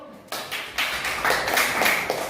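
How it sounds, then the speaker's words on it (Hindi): A burst of hand clapping from a small group of children in a classroom starts abruptly and continues steadily, fairly close and lively. "ताली बजाओ"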